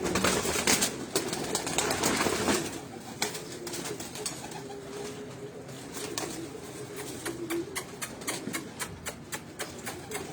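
Breeder pigeons coo in a loft, a steady low murmuring bubbling along throughout with scattered clicks and rustles, loud at first and then settling to a softer continuous hum of birds.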